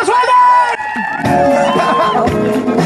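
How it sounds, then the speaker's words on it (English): Crowd at a corporate entertainment event cheering, whooping and shouting for a winner, loud and close with dense babble and music-like tones running throughout. "Give him a round of applause, well"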